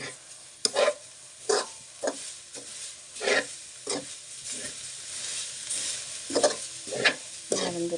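A dish with freshly added coconut is stirred in a pan, giving repeated scraping strokes of a utensil every second or so over a low background sizzle, close and fairly quiet.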